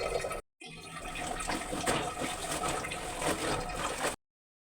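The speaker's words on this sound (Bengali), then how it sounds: "প্যান্টটা আর গেঞ্জিটা ধুয়ে এখন আমি স্কুল ড্রেসটা ভিজিয়ে রাখছি।" Water runs steadily from a tap while a school uniform is left soaking after other clothes are washed, a loud continuous rush with one brief break near the start.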